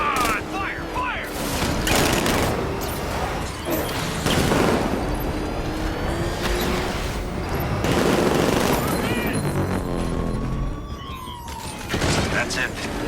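Rapid bursts of gunfire in Batman: Arkham Knight, volleys of shots crackling over a wailing siren and loud combat noise, with shouting voices mixed in.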